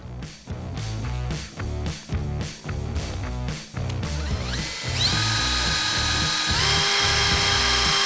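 A power drill whirs in short repeated bursts, then runs continuously with a rising high-pitched whine as it bites through a Toyota Tundra cab roof while installing a roof rack.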